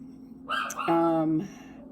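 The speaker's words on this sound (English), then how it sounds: "Kind of like me dealing with my dog barking in the background." A dog in the background lets out one brief, tonal bark-like yelp lasting under a second, fairly close, against a quiet room.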